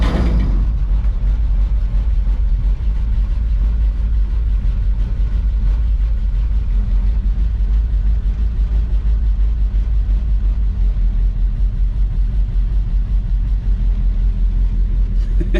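The flathead engine of a 1950 Ford pickup runs after cranking, giving a continuous, loud, low rumbling idle that holds steady and close with no talking.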